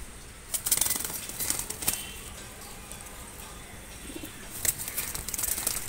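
Giribaz pigeons in a loft give sharp bursts of wing flapping and soft cooing, with a steady airy hiss in the background and busier flurries near the start and end, close by with no voices.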